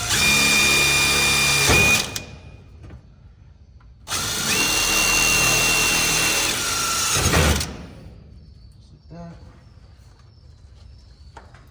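A power drill whines steadily in two loud bursts as it starts a hole in a steel purlin on a cold-formed building, each burst stopping abruptly, with quiet gaps between them.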